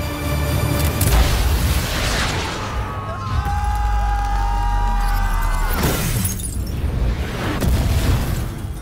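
A movie explosion with a heavy boom and shattering debris, loud bursts near the start and again around the middle, with tonal effects sustained between them.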